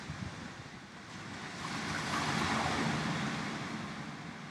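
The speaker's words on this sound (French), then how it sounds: "comme le bruit des vagues qui nous accompagne" Ocean waves washing in a continuous broad rush, with a breezy texture, swelling in the middle and easing off, and no voices.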